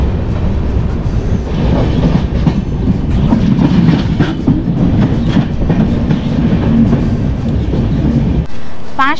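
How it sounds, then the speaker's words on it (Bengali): A passenger train runs on the line toward Siliguri Junction with loud, continuous rumbling and clickety-clack from close by, and faint voices occasionally audible beneath the noise before it cuts off near the end. "এখন আমাদের ট্রেন চলে এসছে তার যাত্রাপথের 22তম স্টেশন শিলিগুড়ি জাংশনে"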